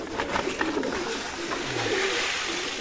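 Pigeons cooing inside a loft, with low repeated coos blending over a steady background hum and rustle throughout.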